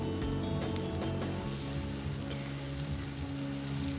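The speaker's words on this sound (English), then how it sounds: "I will be frying the onions until it turns translucent" Sliced onions fry in hot oil in a wok, giving a steady close sizzle and crackle that holds for the whole stretch, with no voices.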